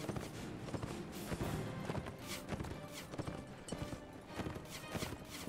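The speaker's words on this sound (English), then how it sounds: "That's a nice horse." Horse hooves clip-clopping in Mount and Blade: Warband, steady irregular hoofbeats from several galloping mounts amid battle thuds, fairly quiet and without speech.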